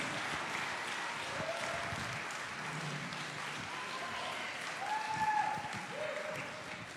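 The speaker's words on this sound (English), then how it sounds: "he wins the award for the best round of applause so far" Audience applause at a music awards show, a steady wash of clapping from a crowd filling the room, holding fairly even and swelling slightly near the end with some scattered voices underneath.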